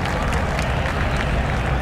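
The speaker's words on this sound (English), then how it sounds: "The crowd giving Marco a hand as he climbs out." Crowd applauding at a 2011 IndyCar Honda Grand Prix of St. Petersburg street race as driver Marco climbs out of his upset car; a dense, steady wash of clapping and crowd noise fills the whole stretch with no pauses.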